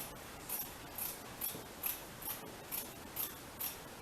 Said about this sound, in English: Now it's time to trim out this excess I put in the front.